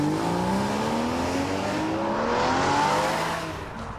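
A 2013 Porsche Boxster S sports car accelerates hard, its engine note rising steadily through one gear, loud and close, then easing slightly near the end.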